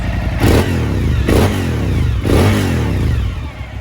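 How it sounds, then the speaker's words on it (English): A 2017 Suzuki V-Strom DL1000 motorcycle engine idles loudly and close, then is revved three times in quick surges that rise and fall back to a steady idle. "Everything sounds exactly as it should. We'll give it a rev."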